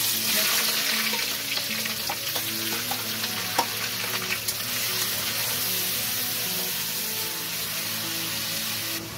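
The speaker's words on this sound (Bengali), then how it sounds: "এটা দেওয়ার পর এখানে দিয়ে দিচ্ছি পেঁয়াজ বাটা।" Onion paste goes into whole spices (bay leaf, cloves, cardamom, cinnamon) frying in hot oil for chana masala, giving a steady, loud, dense sizzle with a few small clicks and no talk.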